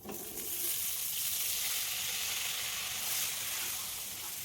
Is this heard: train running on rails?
no